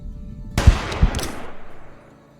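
A single loud rifle shot at a bighorn sheep in Hunting Simulator 2, set in Texas, with a sharp crack followed by a second thump and a fading rolling echo into quiet.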